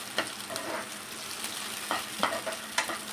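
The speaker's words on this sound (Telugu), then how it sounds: "దీన్ని కూడా మనం నూనెలో ఫ్రై చేసుకోవాలి. ఇలా ఫ్రై చేసేసుకోవాలి." Mint leaves fry softly in hot oil with a faint sizzle, and a spoon stirs them now and then with a few light clinks. The leaves are for a mint tomato pachadi.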